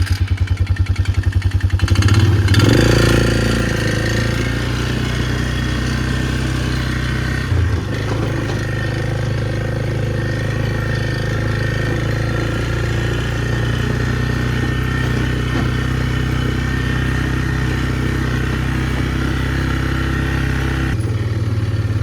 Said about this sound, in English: So we're gonna get on the wheeler and drive back to get this stand put up.